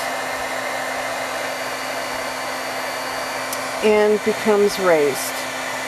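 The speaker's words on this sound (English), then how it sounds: "Then with the heat tool, it is necessary to heat it enough until the embossing powder melts" A heat tool blows a steady, loud, airy whoosh while melting embossing powder on a gourd art piece, continuous throughout with a person talking briefly near the end.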